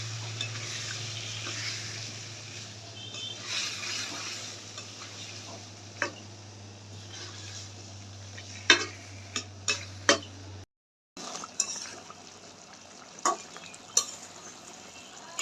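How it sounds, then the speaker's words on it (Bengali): Chicken pieces stirred and fried in a pan for a Bengali morog polao, a continuous soft sizzle with scraping strokes of a spatula and scattered metallic taps, close up, broken by a short gap. "মাংসটা এবার আমি ভালো করে কষিয়ে নিব।"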